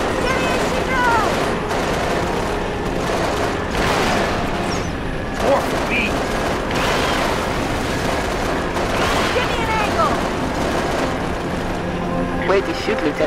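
Dense, continuous gunfire fills a Halo: Reach battle in the New Alexandria mission, with overlapping rapid shots and heavy booms that stay loud and close throughout.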